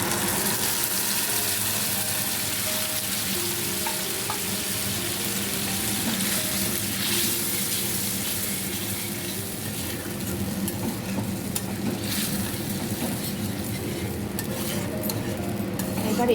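Dal lentils tipped into a pan of fried onion, tomato, green chili and garlic, sizzling and frying steadily while being stirred, with occasional utensil scrapes against the pan, close and continuous throughout.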